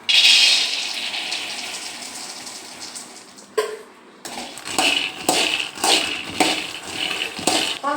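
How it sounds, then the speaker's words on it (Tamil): Peanuts pour into a hot, dry kadai with a rushing, rattling cascade, then scrape and rattle in short bursts as they are stirred to roast, close up with no talking. "இந்த கடாய் காஞ்சிருச்சு இந்த வேர்க்கடலையை கொட்டி வறுத்துக்கலாம்"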